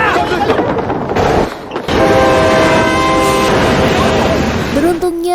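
A train passes close by, its loud rumbling roar with steady wheel clatter joined by a long sustained horn blast that holds through the middle and fades at the end, setting people in a tunnel scrambling aside.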